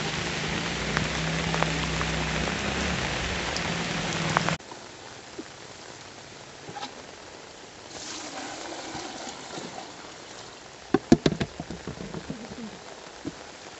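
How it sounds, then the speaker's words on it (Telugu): Steady rain patters loudly for a few seconds, then drops to a softer, quieter fall with occasional sharp drips and knocks. "అంత వర్షం పడుతుంటే ఏం వాటర్ పట్టుకుంటాం"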